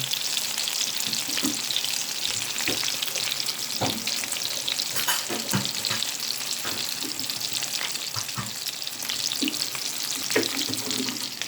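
Homemade meatballs frying in a pan, a dense, steady sizzle of hot oil with scattered pops and crackles throughout, close and fairly loud, with no voices.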